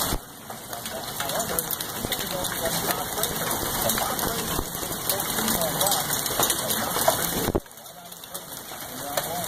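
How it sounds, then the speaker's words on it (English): Dense, heavy pattering of hail drums continuously on a surface in an Indiana hailstorm, loud and close, with a steady whine running underneath. "It's a legit hailstorm."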